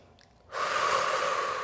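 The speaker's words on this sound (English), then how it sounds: "Breathing in through the nose and out through the mouth." A single long breath during a Pilates abs and core workout, drawn in through the nose and let out through the mouth, rising suddenly into a steady close airy rush that holds for over a second.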